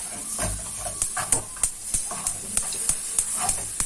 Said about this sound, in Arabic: هنبدا نحط بقى الحليب شويه بشويه